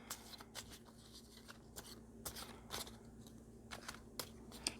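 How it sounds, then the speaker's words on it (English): Playing cards shuffled clumsily by hand in a series of sharp, irregular riffling bursts and slaps, close and fairly quiet, with a low steady hum underneath and no talking. "Again, forgive the clumsy shuffling"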